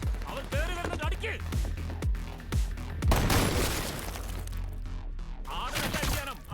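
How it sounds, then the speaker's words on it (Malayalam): Gunfire rings out in a shootout scene from the Malayalam movie Rifle Club, several sharp shots and a burst of rapid fire mixed with shouting voices and film music. "ആളെ വെടിവെക്ക്"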